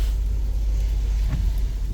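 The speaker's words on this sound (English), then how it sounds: "That's the engine." A 2011 Toyota Camry engine idling, giving a steady low rumble close by with no change in pitch over a brief stretch.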